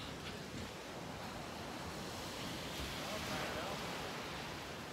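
Ocean waves on a Hawaii shore, heard as a constant, dense roar of surf with some wind rumble, fairly steady in loudness throughout.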